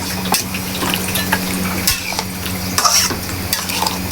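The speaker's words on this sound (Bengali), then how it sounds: "এই যে মাংস কষানো হচ্ছে" Beef being sautéed in a pot with cardamom, bay leaf and garam masala, a steady sizzle with a spoon scraping and stirring and occasional clinks against the pot, close and continuous.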